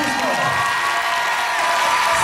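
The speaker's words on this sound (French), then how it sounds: "des applaudissements qui retentiront dans toute la France" Audience applauds at a cosplay contest award ceremony, steady dense clapping filling the room with a few cheers and whoops mixed in throughout.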